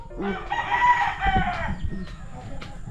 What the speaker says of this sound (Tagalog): Mayroon na siya ditong lagayan ng mga manok.